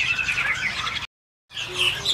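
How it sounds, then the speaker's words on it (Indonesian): Pancawarna songbirds at a bird-selling kiosk in Pramuka market chirp in bright, busy bursts, a steady twittering that cuts off completely for a moment and then resumes. "Ini ada burung pancawara ya."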